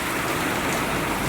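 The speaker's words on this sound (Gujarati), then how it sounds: "વરસાદ તો જોયેલા" Steady rain pours down without a break, a dense, even hiss of drops falling on outdoor surfaces, fairly loud and close, with no voices over it.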